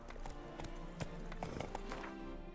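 Hooves of Roach, Geralt's horse in The Witcher 3, clip-clopping in a steady trotting rhythm over a busy game soundscape, fairly close and moderately loud, with no talk.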